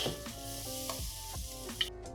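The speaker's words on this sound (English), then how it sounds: "my mom is sauteing the shallots with the taro pieces" Shallots and taro pieces sizzle steadily in a pan while being sauteed for Chinese sticky rice, a soft continuous crackle with occasional stirring scrapes, close and fairly quiet with no talk.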